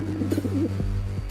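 Pigeons coo in a cartoon, soft warbling throaty calls close by over a low steady hum, followed by a couple of faint clicks, with no talking.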